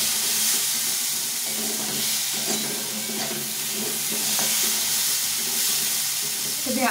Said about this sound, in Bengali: এইভাবে শুকনো করে ভেজে নিতে হবে, একদম শুকনো করে।